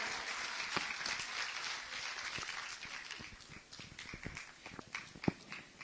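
A crowd applauds to welcome a poet at a Kurdish poetry reading, steady clapping filling the room for several seconds with a few louder individual claps standing out near the end.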